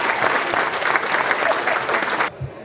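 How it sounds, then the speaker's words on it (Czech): At the award ceremony of a world fly fishing championship held in South Bohemia, a crowd claps loudly and densely for the honoured champions, then the applause cuts off abruptly into near silence. "Takže děkujeme našim oceněním, ještě jednou jim děkujeme, prosím potlesk"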